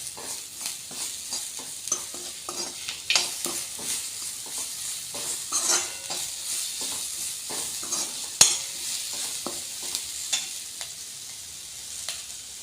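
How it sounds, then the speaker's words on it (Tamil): Onion-tomato masala being sautéed with salt for restaurant-style Hakka noodles, with a continuous close sizzle broken by frequent scraping and clinking stirs against the pan, irregular and moderately loud, no voices. "நமக்கு தேவையான சால்ட்டை சேர்த்து நல்லா ஒரு வதக்கு வதக்கிடலாம்"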